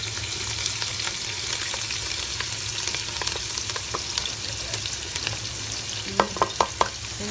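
Ginger sautéed and stirred in a pan for a Kerala-style crab roast, with a steady sizzle and occasional scrapes, ending in a few sharp knocks of a spoon against the pan.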